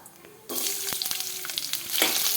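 Garlic hits hot oil where mustard seeds and cumin are already crackling, and the pan bursts into a loud, dense sizzle with sharp pops and spits throughout.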